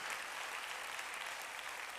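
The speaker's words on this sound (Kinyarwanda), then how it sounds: "Twakomera Imana yacu amashyi" A church congregation claps together in praise, a steady, dense wash of applause at moderate level that holds without pause, with no clear speech over it.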